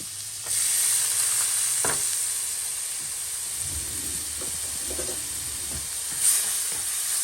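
Onion frying in butter in a pan, a steady close sizzle and hiss with occasional stirring scrapes and a brief louder flare near the end, no voices.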